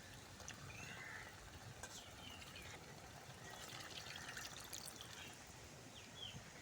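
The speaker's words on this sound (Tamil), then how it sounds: "இப்போ அந்த அமி கழுவின தண்ணியை சேர்த்துக்கிறேன்." Water washed off a stone grinding slab poured into simmering chicken gravy, a steady trickling pour at low level with faint background noise and no talk.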